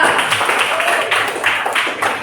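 Students clapping together in a classroom at the teacher's prompt, a dense, steady patter of many hands that holds loud and close for a couple of seconds.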